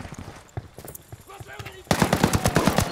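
Machine gun turret fire in Ghost Recon Wildlands, a rapid, loud burst of automatic shots bursting in during the final second, preceded by game sound effects and a shouted warning voice.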